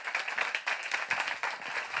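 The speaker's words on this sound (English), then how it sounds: "So can you please give a very big round of applause to Laura Have Hoffmann." An audience claps together in a dense, even patter of hand claps, fairly soft and continuous, at a talk session on taste practice and culture.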